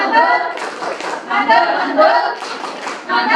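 A small group at a university lecture claps in a short patterned rhythm, with several close, distinct bursts and voices mixed in.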